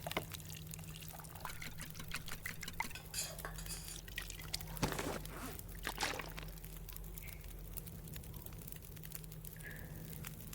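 Water being prepared over an indoor fire in The Long Dark, a faint steady pour and trickle with light clinks of pots and utensils over a low constant hum.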